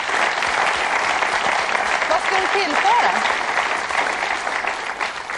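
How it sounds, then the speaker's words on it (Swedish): Loud, dense applause from a large audience fills the whole stretch, with a voice speaking briefly over the clapping. "och så får man mycket applåder"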